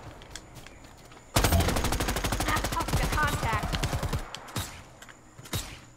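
Sustained automatic fire from the OWLF rifle in the video game Predator: Hunting Grounds: a loud, rapid burst of shots lasting about three seconds, followed by a few scattered single shots.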